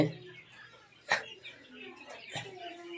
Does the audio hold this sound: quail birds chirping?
yes